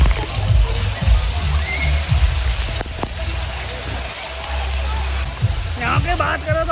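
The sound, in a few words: waterfall at a water park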